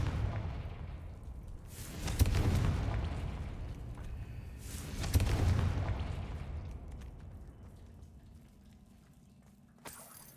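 Magical Confringo fire spells burst in the wizarding game Hogwarts Legacy, two heavy rumbling explosions a few seconds apart that roll and slowly fade, followed by a short sharp pop near the end.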